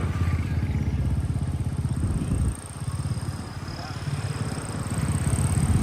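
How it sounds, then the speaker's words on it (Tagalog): A motorcycle tricycle rides along a road in the Philippines, its engine putting out a steady, close throbbing rumble that briefly drops in level partway through before building again. "At si Mami Cookie po ay sasakay ng motor."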